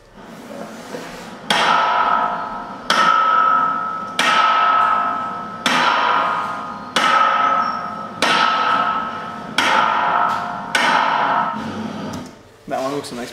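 Hammer blows ring out one after another at a slow, even pace, about eight sharp strikes with a ringing decay after each, loud and close.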